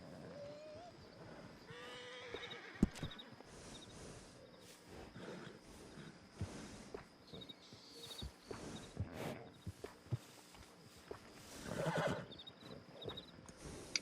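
A horse in the video game Red Dead Redemption 2 gives a clear whinny, followed by snorts, clip-clopping hooves and scattered ambient game sounds across a quiet outdoor scene.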